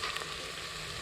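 Onions, ginger-garlic paste and chopped chillies fry in a pressure cooker for a quick village-style gobhi dish, a steady close sizzle with faint stirring scrapes and no voices.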